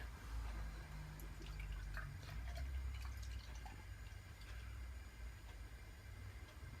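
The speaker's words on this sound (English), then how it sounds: "I poured that rather quickly" Beer, a Yuengling, poured fast into a glass, giving a steady close-up liquid gush and fizz with faint drips, heard alone with no talking.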